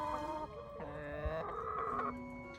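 A chicken clucks and crows close by in short, bright bursts, with no talking.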